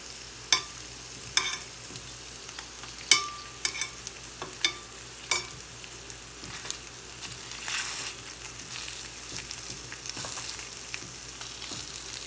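Seitan frying and browning in a pan, with steady sizzling and a few sharp clicks and scrapes of stirring near the start, then a fuller sizzle rising toward the end, no talk.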